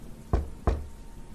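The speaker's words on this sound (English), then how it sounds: "A light knocking sound on the other side of the house." Two light knocks on a door, spaced about a third of a second apart, heard alone against quiet room tone in a house, with no voices present.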